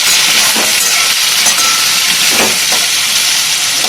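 Chopped onion and tomato fry in a hot pan with a loud, bright, continuous sizzle, close up, and a few sharper spits break through now and then.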